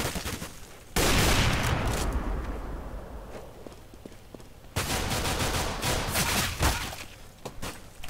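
Two loud, sharp AWP sniper rifle shots ring out in CS:GO, each followed by a long, rumbling decay, with quieter in-game noise between them.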